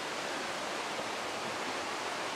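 Rushing water pours steadily at Cagbuanga Waterfalls, a dense, even roar that continues without a break and with no voices over it.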